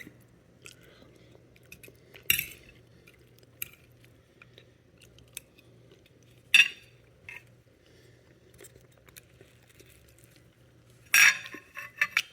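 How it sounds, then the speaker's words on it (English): Knife and fork scrape and clink against a plate while cutting sausage at breakfast, with a few sharp distinct clatters separated by quiet stretches and faint small taps between them. "I need to cut my sausage real quick"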